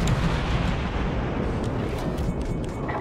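Naval gunfire from a cruiser in the World of Warships game: a dense, continuous rumbling roar of shell blasts and booms, loud and close, filling the whole moment with no voices.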